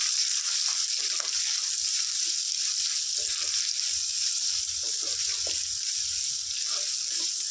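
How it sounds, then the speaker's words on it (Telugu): Onions and green chillies frying in hot oil in a pan, a steady bright sizzle throughout with faint soft stirring clinks underneath. "టూ మీడియం సైజ్ ఆనియన్స్ ఒక టెన్ మిర్చి వేసుకుందాం ఫ్రెండ్స్ వీటిని చక్కగా ఫ్రై చేద్దాం"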